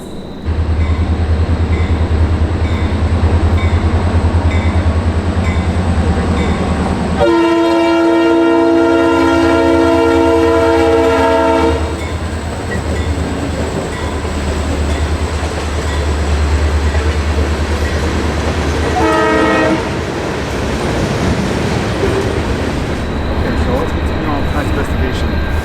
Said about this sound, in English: we got a train coming, guys